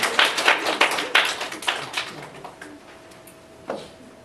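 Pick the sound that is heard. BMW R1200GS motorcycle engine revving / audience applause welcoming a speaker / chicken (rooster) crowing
audience applause welcoming a speaker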